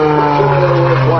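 Aerobatic propeller airplane droning overhead in knife-edge flight at an airshow, a loud, steady engine tone held for a moment.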